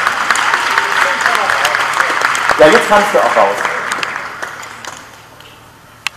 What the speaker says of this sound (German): erstmal herzlichen Applaus für den Mut der beiden hier